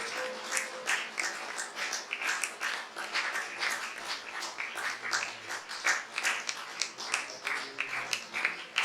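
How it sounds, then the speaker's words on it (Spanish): A congregation at a church service applauding steadily, dense overlapping claps filling the whole stretch at moderate loudness, with no pauses. "Eso merece un aplauso."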